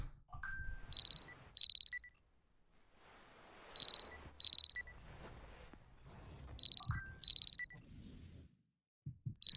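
An alarm rings in the video game Parasocial: repeated bursts of high, bright electronic beeping pulses come in clusters with short gaps between them, loud and close, over a low rumbling background.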